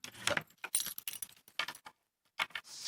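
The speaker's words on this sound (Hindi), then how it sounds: "अच्छा, चाबी से बंद करो" Keys jangle and clink while a cupboard is locked, a series of faint, close metallic rattles and taps in short irregular bursts with brief pauses, no talk.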